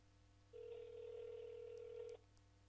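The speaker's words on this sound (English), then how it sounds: "So I'll dial that phone number now and you can actually hear it working." A telephone call placed to a 415 number, heard as one steady ringback or dial tone lasting about a second and a half, clean and isolated with no talking.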